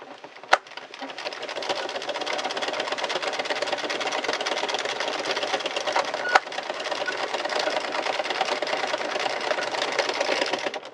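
An Addi or Sentro circular knitting machine cranked continuously, a dense even whirring clatter of needles and plastic parts, steady and close, with a couple of sharp clicks.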